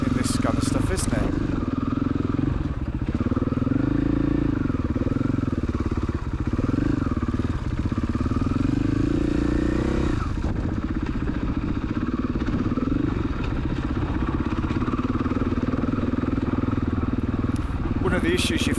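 Trial motorcycle ridden along a very overgrown single track in Northumberland, its mid-pitched engine droning steadily and rising and falling with the throttle throughout, loud and close, with someone talking over it.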